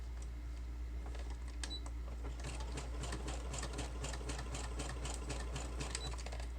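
A sewing machine stitching through paper pages in a journal, a quiet, rapid mechanical chatter of needle strokes over a low motor hum, starting in short bursts then running steadily.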